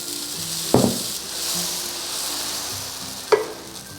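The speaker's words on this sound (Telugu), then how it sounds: "ప్యాన్ బాగా వేడెక్కిన తర్వాత 2 spoons దోశపిండి వేసుకుందాము." Dosa batter sizzling on a hot pan, a constant close frying hiss marked by two sharp clatters of a spoon or ladle against the pan.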